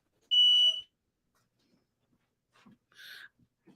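A smoke detector goes off while someone is cooking, giving two short, sharp high-pitched beeps about two and a half seconds apart, with faint indistinct sounds in the quiet gap between them.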